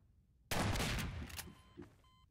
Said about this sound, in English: I shot a cup and he exploded